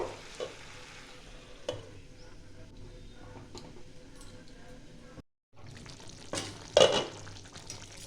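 Chicken coated in spices sizzles in a pan on a medium-low gas flame, a soft steady frying hiss broken by a few stirring knocks, a brief cutoff, then louder clattering.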